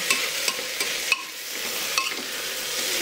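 Dal khichuri stirred in a pot with turmeric and salt, giving a steady hiss with a few crisp scrapes and knocks from the spoon spaced irregularly, close by and with no talking.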